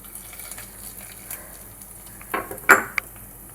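Hot tempering of cumin and mustard seeds is poured into a spiny gourd pulusu, giving a brief, sharp sizzle that flares and fades within a second after a few soft kitchen clinks.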